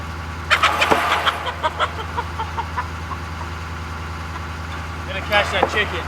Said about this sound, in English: Catch that chicken.